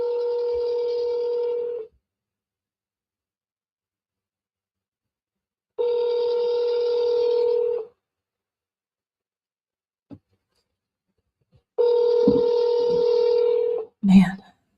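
A phone line rings out in three long, regular bursts separated by silence, loud and close, followed by a click and a short clipped sound at the end.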